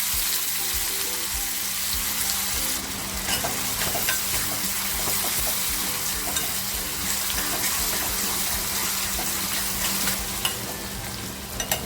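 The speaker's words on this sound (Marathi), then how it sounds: "तेल टाकते तेल छान गरम झाले कांदा टाकते" Onion dropped into hot oil in a kadhai for a small-shrimp masala, a continuous close crackling sizzle with stirring scrapes, moderately loud and steady across the span with no talk.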